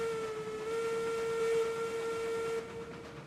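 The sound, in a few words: steam locomotive whistle in video game Railroads Online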